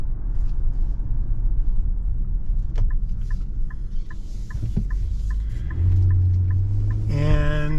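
A 2023 Nissan Pathfinder Platinum 4x4 drives along, a low, steady engine and road rumble heard from inside the cabin, with a series of faint ticking chimes and a rising tone toward the end.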